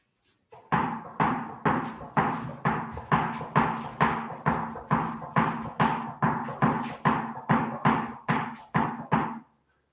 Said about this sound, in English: a recurring sound with the ball bouncing on the ground